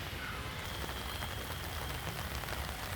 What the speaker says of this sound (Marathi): पुण्यात मुसळधार पाऊस सुरू झालेला आहे।